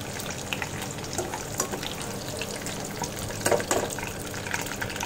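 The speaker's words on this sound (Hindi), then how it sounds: "डालने के बाद 2 मिनट हम इसे भी फ्राई कर लेंगे।" Capsicum and onion fry in oil in a kadai while kadai paneer is being made, giving a steady, close sizzle with a few brief stirring clatters and no talking.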